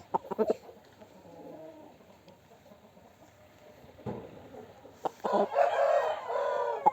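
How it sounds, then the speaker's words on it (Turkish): Silme chickens, a Turkish breed, crow and cluck in a farm setting, with a short burst of calls at the start and a louder, sustained crow near the end, heard close and alone. "Bu benim silme tavuklarımdan."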